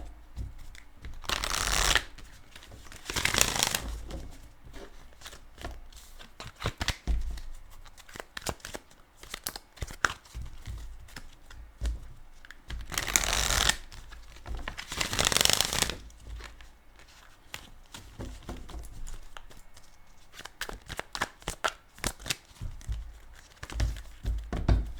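Tarot cards are shuffled in several riffling bursts, crisp and close, separated by quieter stretches of soft handling and taps.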